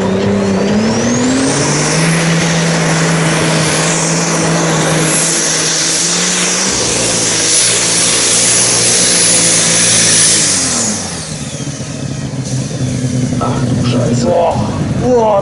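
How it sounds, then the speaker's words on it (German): A Superstock drag racing car engine roars loudly and steadily at a drag strip in Fuchtorf, rising and falling in pitch as it accelerates, with a rough rumble partway through before it fades. "Boah, da rumpelt's einmal reell im Motor."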